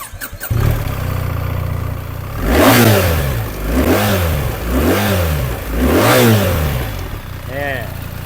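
A 2024 BMW R1300GS in Triple Black fitted with an Akrapovic exhaust starts and idles, then revs up four times in steady swells before settling back, loud and close. A voice is heard briefly.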